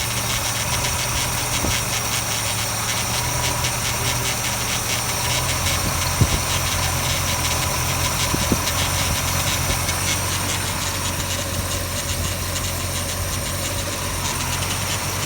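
A carbureted engine idles steadily after its first start of the season, a constant close hum with a faint hiss and a couple of small clicks, no speech.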